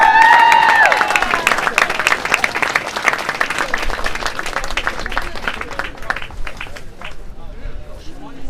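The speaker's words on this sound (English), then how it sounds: "Please say applaud, please, for Mr. Chmiel." An audience at a high school rally applauds, a burst of clapping that fades out gradually over several seconds, with cheering and crowd noise at the start.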